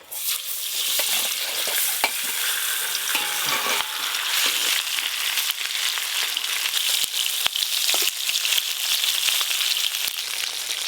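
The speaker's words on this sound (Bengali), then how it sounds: "একসঙ্গে সব মাছগুলো ভেজে নেবে এবার।" Rupchanda fish pieces fry together in plenty of hot oil, a loud, bright, unbroken sizzle with occasional sharp pops and spatters, close by and without any speech.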